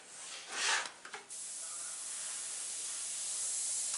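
A cheap $10 airbrush sprays paint for a rose petal, giving a loud breathy hiss that swells near the start, sputters briefly, then settles into a steady, even spray.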